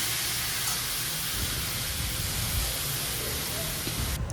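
Vegetables hit hot oil with turmeric in a home kitchen, a dense, constant sizzle like loud steady hiss filling the whole stretch without pause.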